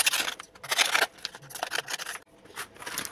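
Scissors snip through kraft paper to make shreds, with quick crisp cuts in uneven bursts close to the microphone and short pauses between the runs of cutting, no talking.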